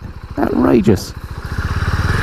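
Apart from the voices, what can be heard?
Husqvarna Vitpilen motorcycle riding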